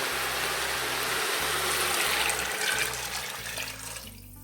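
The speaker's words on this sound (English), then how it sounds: "I'm going to pour them in, and then I've got 9 cups of water." Water pours steadily into a pot of red beans being prepared for canning, a continuous close splashing rush that fades out near the end.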